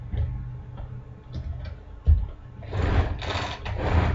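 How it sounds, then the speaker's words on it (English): A Tupperware pull-cord chopper works through salsa in a few quick pulls, each giving a whirring burst of rapid ticking blade and gear clatter, close and moderately loud, with no speech. "Few more pulls and that salsa will be ready."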